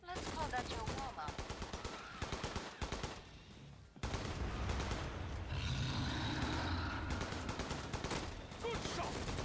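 Rapid automatic gunfire and bursts of shots from the co-op survival shooter Killing Floor 2 on the Spillway map, loud and sustained through most of the clip, with a brief lull midway and game effects underneath.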